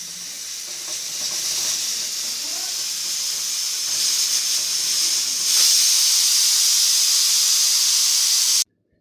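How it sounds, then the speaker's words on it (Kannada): A pressure cooker of ginna (milk pudding) on a stove vents steam in a steady, loud hiss that grows stronger partway through, then cuts off abruptly. "ಇವಾಗ ವಿಶಿಲ್ ಆಗೋಕ್ಕೆ ಬಂದಿದೆ"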